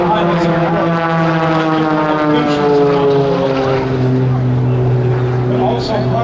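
Aerobatic propeller airplane flying a tumbling maneuver at a riverfront airshow, its engine droning loud and continuous with a harmonic whine that slowly falls in pitch as it passes, alone with no talk.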